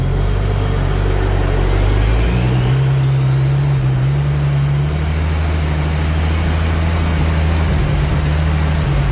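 A Holden VY Calais engine revs hard and steadily under load on a dyno during a power run, a loud sustained drone with rising pitch around a third of the way in, with no talking over it.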